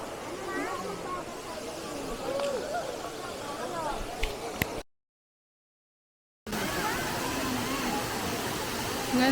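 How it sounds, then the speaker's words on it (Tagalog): Waterfall at a resort in Bolinao, Pangasinan: a constant broadband rush of falling water with voices and crowd chatter over it. The sound cuts out briefly in the middle, then resumes just as strong. "Ayan, ang ganda ng falls."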